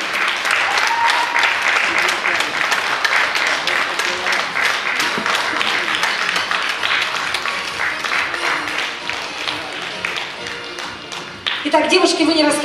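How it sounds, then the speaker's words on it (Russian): Audience applause at a Ukrainian bellydance contest award ceremony, dense, loud clapping from a crowd that runs steadily for about eleven seconds before fading, with a voice speaking briefly at the end. "Зрители, аплодируйте."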